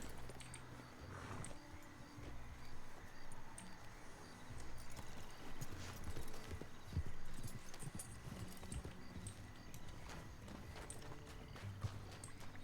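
Horse hooves clip-clop at an even walking pace in a video game, soft repeated thuds under a constant dense ambient bed of game sound, with no voices.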